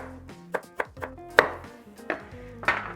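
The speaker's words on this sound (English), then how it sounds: "I just want to cut them up into relatively small pieces, about 1 inch or so pieces" A kitchen knife chops root vegetables such as carrots into roughly one-inch pieces on a board for roasting. Several crisp, irregular chops land close and clear over a steady, faint tonal background.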